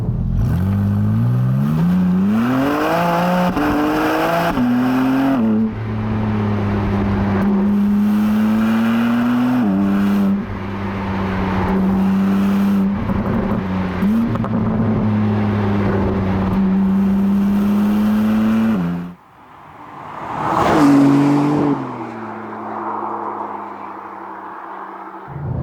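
A BMW M4 CSL with 550 horsepower and rear-wheel drive, its engine revving up through repeated gears with rising pitch sweeps and shifts, loud and close, easing off near the end before a final burst.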